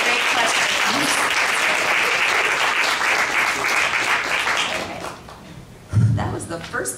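Crowd applause at an evening panel discussion on the census, thick sustained clapping that thins and fades after about five seconds before a voice begins speaking near the end.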